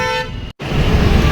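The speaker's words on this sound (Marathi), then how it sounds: "बरोबर मी व्हिडिओ चालू करताना हॉर्न वाजवतात" A vehicle horn honks loudly and steadily at a roadside, with a brief gap before a second blast amid traffic noise.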